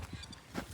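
A few short, nasal honking calls from ducks at a lake, close by, coming in quick bursts with a low background murmur.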